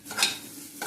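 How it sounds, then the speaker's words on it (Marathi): A spoon scrapes and stirs grated coconut as it roasts in a pan, giving short close scraping sounds with a faint sizzle underneath. "आपण आता खोबरं भाजूया."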